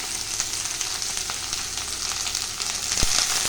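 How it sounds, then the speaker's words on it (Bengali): Mustard oil and dried red chillies fry in a wok, a steady close sizzle with faint stirring clicks and one sharp knock near the end; no talking. "কড়াই দিয়েছি সর্ষের তেল আর শুকনো লঙ্কা"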